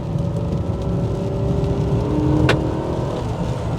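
An old Jaguar V8 in sport mode revs hard under full throttle with a steady, loud engine roar from inside the car, climbing toward about 5,000 rpm, with no talking.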